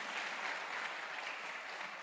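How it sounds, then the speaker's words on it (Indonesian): An audience at a talk applauds, a dense, even wash of many hands clapping, steady and fairly far off for about two seconds, with no voices over it. "Aplaus ya untuk Anda semua"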